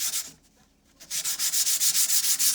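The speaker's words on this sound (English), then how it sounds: "I took my sandpaper, my lightweight sandpaper, and I sanded just, not too much" Steady rhythmic strokes of lightweight sandpaper rub back and forth over navy paint, a brief pause, then faster repeated scraping passes, close and fairly loud.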